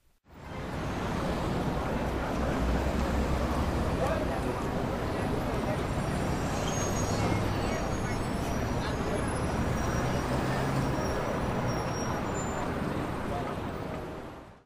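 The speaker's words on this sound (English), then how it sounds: "Ambience on New York Times Square." Continuous city street ambience in Times Square, New York, with a steady roar of traffic and vehicles and a dense murmur of crowd voices throughout.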